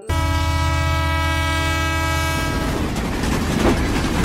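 A loud train horn blasts steadily for a couple of seconds as a train passes and strikes someone, then gives way to rumbling, clattering wheel noise, used as an animation sound effect.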